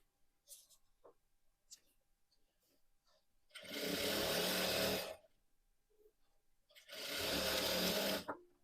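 A sewing machine stitches sharara fabric in two loud bursts of about a second and a half each, separated by quieter handling noises and light movement.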